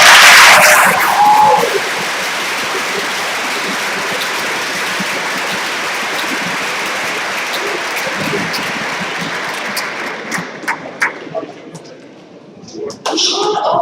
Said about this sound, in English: Let's give them all one more huge applause